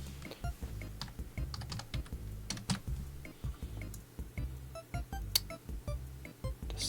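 Close, quick typing on a computer keyboard while entering a name and company into a Windows setup program for the 1997 SimCity Classic install, rapid clicky keystrokes in bursts with brief pauses, no talking.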